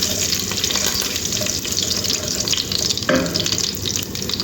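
Curry leaves hit hot oil in a pan while potato poriyal is being made, producing a loud, continuous crackling sizzle close up, with a brief stir or clatter partway through.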